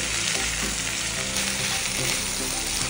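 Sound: sausages and onion frying in pan

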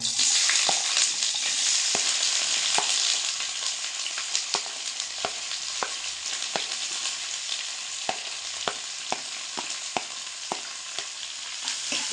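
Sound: chopped onions frying in pan

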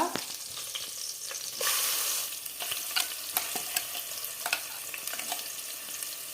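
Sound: onion paste frying in oil

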